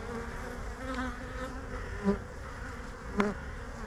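A honeybee colony buzzes steadily during a beekeeper's hive inspection at an apiary, a dense close drone with a few louder passes from individual bees near the frames.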